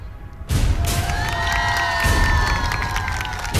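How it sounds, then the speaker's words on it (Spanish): A studio audience bursts into cheering and applause for a guest named Vania, a sudden loud crowd roar that starts after a brief quieter moment and holds steady with whoops and shouts throughout. "Un aplauso para Vania"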